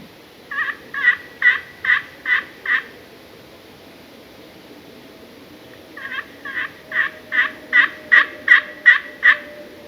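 A wild Osceola turkey in a Florida river bottom gobbles in two rapid pulsing bursts of about six and nine notes, clear and fairly close, with quiet outdoor ambience between them.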